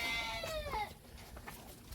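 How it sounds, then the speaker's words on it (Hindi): A goat bleats at a rural homestead near Srinagar, one wavering cry at the start that fades out, followed by quiet faint background noise and no talk. "ये बकरी है,"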